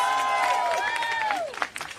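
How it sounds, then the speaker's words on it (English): An audience at an outdoor Mother's Day picnic event claps and cheers, with rising and falling whoops riding over a broad wash of applause that tapers off near the end. "Give her another round of applause, please."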